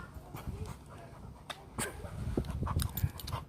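A dog named Max whimpers and whines in short, uneven bursts at close range, with light panting and faint background noise between the cries.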